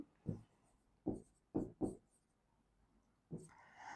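Handwriting a definition, probably chalk or marker on a board, heard as four or five short scratchy strokes separated by pauses, faint and close in an otherwise quiet room.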